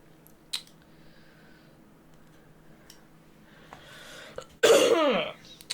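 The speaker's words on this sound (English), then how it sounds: "it's gonna be a lot of coughing" Coughing in a horror game set on a family farm, a sudden harsh cough burst near the end following quiet scattered ticks and faint background noise.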